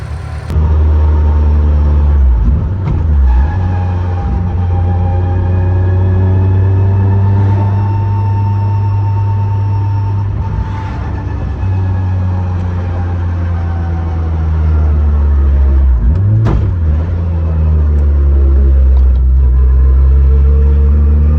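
A car engine drones loudly and close, a deep, steady rumble that swells slightly in pitch at times, heard alone with no voices.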